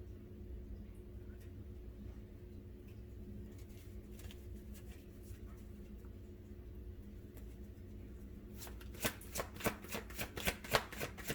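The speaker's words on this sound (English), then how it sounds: "as I'm futzing around with these cards, I'm doing my bit on my end" Tarot cards are handled and shuffled, soft rustling at first that turns into a quick run of crisp riffling flicks near the end, close and fairly clear.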